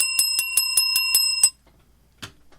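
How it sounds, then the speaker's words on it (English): Rapid metallic dings from a small bicycle-style bell ring out about eight times in quick succession at a trivia game, then stop, followed by a faint thump and quiet room. "Where's the bell?"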